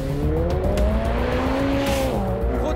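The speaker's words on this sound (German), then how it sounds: "Brutal, wie er rausbeschleunigt." A convertible sports car engine roars under hard acceleration after braking from 298 km/h, its pitch climbing then dipping with a gear change, loud and close.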